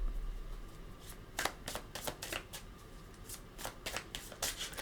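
Tarot cards riffled and shuffled by hand, a series of crisp snapping flicks in quick irregular bursts, close and fairly quiet, with no talking.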